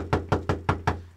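Five loud, close knuckle knocks on a door, evenly spaced in a quick steady rhythm, with nothing else heard.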